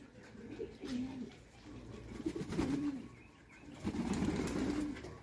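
Pigeons cooing softly in low, throaty bursts while bathing at a pet market in Angeles City, with a few brief flutters and light background rustling.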